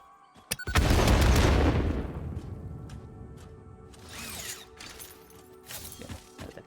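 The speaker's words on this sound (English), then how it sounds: "Get ready for explosion." A loud, close explosion booms out in the video game Satisfactory, a sharp blast that rolls into a long rumbling decay, followed by scattered crackles and debris rattles.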